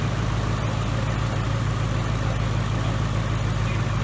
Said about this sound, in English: the engine's been running here for about 10 minutes